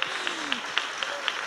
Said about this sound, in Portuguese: Pode aplaudir Jesus, que ele merece.